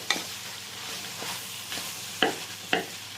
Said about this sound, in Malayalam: അരപ്പ് മൂത്തിരിക്കുന്നു അതിലേക്ക് ഈ സോയാബീൻ നമ്മൾ ഇടുകയാണ് നമുക്ക് നല്ലതുപോലെ അരപ്പുമായിട്ടൊന്ന് യോജിക്കാൻ നല്ലപോലെ ഒന്ന് ഇളക്കി കിട്ടാം